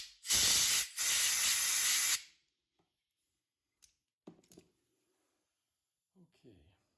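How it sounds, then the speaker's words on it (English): Cleaner is sprayed into a GP1200i carburetor in two loud, close hissing bursts of about a second each, followed by quiet handling clicks and small taps. "I'm going to want to spray this out again"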